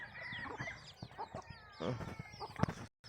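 Chickens clucking and cheeping in scattered bursts, near and fairly soft, with small scuffling noises around them and a brief drop to silence near the end.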